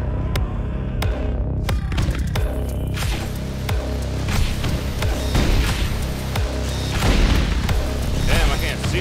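A grenade launcher fires in a video game, with deep booms and thuds that recur amid sharp clicks and a throbbing hum, loud and busy, a voice talking over parts of it.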